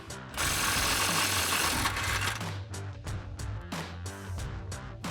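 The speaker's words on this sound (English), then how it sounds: "Next, we're going to loosen the lower strut bolt. So to do that, we're going to be using an impact, a 21mm socket" An impact wrench with a 21mm socket hammers at the lower strut bolt on a RAM 1500, a loud rattling burst followed by short rapid chattering pulses as the bolt breaks loose.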